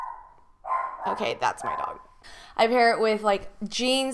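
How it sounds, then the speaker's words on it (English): A pet dog barks a few times in a room, fairly close and loud, breaking in over someone talking. "But okay, that's my dog."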